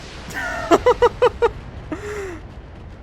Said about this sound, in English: The autocannon just happened to hit.